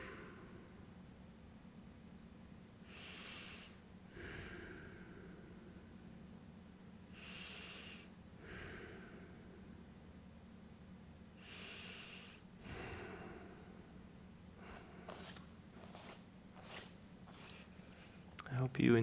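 Slow, deep breathing during a vinyasa yoga class, with soft whooshing inhales and exhales spaced a few seconds apart, close and quiet, and quicker breaths toward the end.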